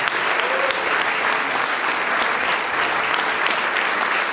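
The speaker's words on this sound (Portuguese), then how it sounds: "Aplauda o Senhor Jesus pela palavra que ele nos deu." A church congregation at an anniversary celebration applauds, a continuous dense wash of clapping from many hands, steady and fairly loud from start to finish with no voices standing out.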